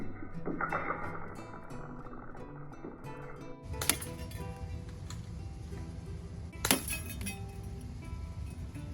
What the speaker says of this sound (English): So we'll take a few shots on the targets here.